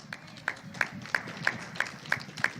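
A church congregation claps in a steady rhythm, about eight regular beats roughly a third of a second apart, crisp and moderately close over a faint room murmur.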